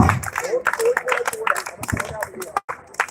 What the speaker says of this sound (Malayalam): എല്ലാവരും കൈയടിച്ച് പ്രോത്സാഹിപ്പിച്ചേ